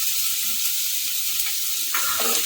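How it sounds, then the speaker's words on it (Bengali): Onions and nuts frying in a pan until brown give off a loud, continuous close sizzle that shifts slightly near the end as they are moved about, with no talking. "যতক্ষণ না ব্রাউন হবে ততক্ষণ আমি এগুলোকে ভাজবো"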